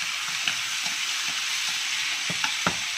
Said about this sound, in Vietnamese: mình cho cà vào xào cùng